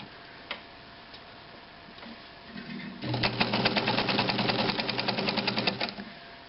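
A Necchi BU Nova sewing machine sits mounted in a desk. It is quiet at first, then starts up and runs at full speed for a few seconds in a fast, steady, close clatter, then begins to slow near the end.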